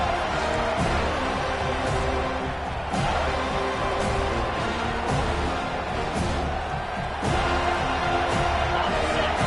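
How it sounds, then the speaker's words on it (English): Stadium crowd at a football game roaring steadily on a third-down defensive stand, a dense, loud sustained wall of cheering with faint whoops and swells throughout. "Decibels rising as the crowd gets behind this defense on 3rd down."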